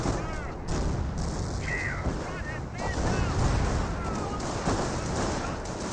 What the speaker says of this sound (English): here comes an artillery barrage as well